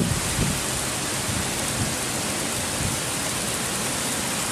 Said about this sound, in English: I think it's a red zone rain